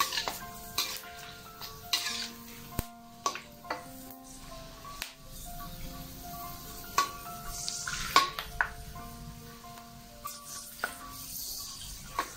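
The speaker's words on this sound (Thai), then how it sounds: "ทอดให้กรอบเลยนะคะจะเย็นๆนะคะขั้นตอนนี้เดี๋ยวจะไหม้นะคะ" Pork rinds frying in oil until crisp give a quiet, crackly sizzle broken by frequent sharp clinks and scrapes of a utensil against the pan, spaced irregularly across the stretch without speech.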